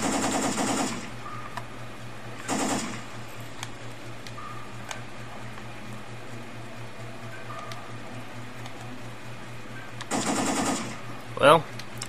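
Bursts of rapid gunfire from the video game Syphon Filter 3, three short automatic volleys spaced apart, with quieter game sounds and a brief squeak between them.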